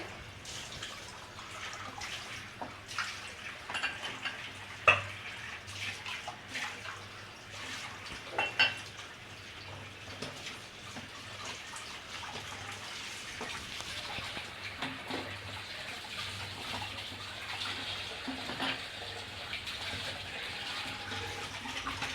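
Plates, bowls and cups are washed under a running tap after a meal, with steady water flow, scattered clinks of dishware and occasional louder knocks, fairly close and without talk.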